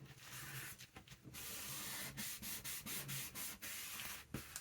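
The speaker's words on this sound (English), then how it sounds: "And then give that a good rub down." A hand firmly rubs down a glued envelope pocket made from junk mail paper for a junk journal. The close, dry, papery rubbing runs in repeated strokes with brief pauses, and nobody speaks.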